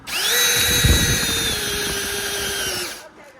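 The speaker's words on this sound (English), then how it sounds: "Let's drill a little bit of something right here." A cordless drill whirs steadily at high speed for about three seconds, its pitch dipping slightly as it bites, then winds down and stops.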